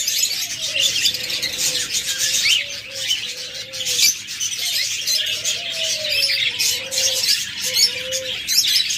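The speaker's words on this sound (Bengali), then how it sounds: "তাছাড়া অসংখ্য পরিমাণ বাজরিগার পাখি রয়েছে" Lovebirds and budgerigars kept for sale chatter in a constant dense wash of high chirps, with lower, tonal cooing notes repeating underneath throughout.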